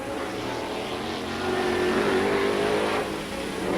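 Chevy-powered 5-liter Can-Am race cars at the 1982 Trois-Rivières street race roar past at close range, their loud engine note rising and swelling midway then easing off, with no talk over them.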